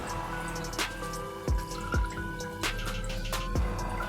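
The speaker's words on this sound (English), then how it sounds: "I'll just transfer my cold brew into this other jug, filtering the coffee grinds" Cold brew coffee poured through a filter into a jug, with drips and small splashes landing at irregular moments over a steady trickle, close and moderately quiet.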